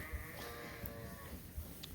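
Sheep in a barn still waiting to lamb, bleating now and then against a steady low rumble of livestock shuffling nearby, with a few short higher calls scattered across the moment.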